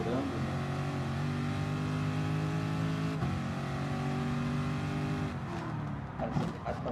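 A race car in Gran Turismo Sport, driven at Kyoto Driving Park Yamagiwa, holds a loud, steady engine whine with rising pitch, briefly breaks at a gear shift, then fades near the end, while a commentator speaks.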